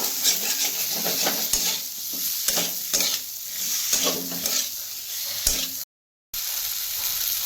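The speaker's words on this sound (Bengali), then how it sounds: "এখন একটু মশলাটাকে একটু ভাজা ভাজা করে নেব" Spices and vegetables for a fish curry with black cumin and flat beans fry in a pan, a constant sizzle broken by repeated scraping stirs, close and loud, with a brief dropout near the end.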